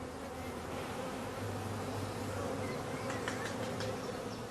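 Steady, close buzzing of many bees swarming around colour-coded nucleus hives housing young queens and their colonies, a continuous droning hum with a few louder passes near the end.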